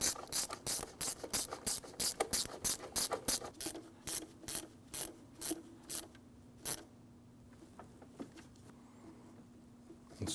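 Ratchet clicking repeatedly as intake tube clamps are tightened on a 2012-2016 Honda CR-V 2.4L four-cylinder, a close, steady run of sharp pawl clicks in quick bursts that thin out and slow toward the end, with no talk.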